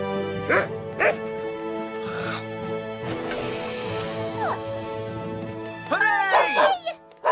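Cartoon dogs bark and yip in short bursts over a busy musical score, with a brief whimpering cry and a cluster of yaps near the end, from a Fireman Sam animated episode.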